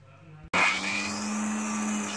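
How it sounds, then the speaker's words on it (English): An electric grinder with peanuts inside switches on abruptly after a brief quiet moment and whirs loudly and steadily at close range with a high, even motor whine. "all you need to do is just grind it into a coarse powder"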